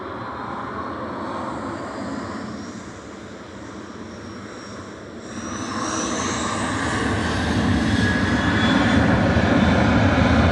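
Ryanair airliner departing Manchester Airport for Milan, a loud sustained engine roar that swells and rises in pitch as it powers up, alone without talk.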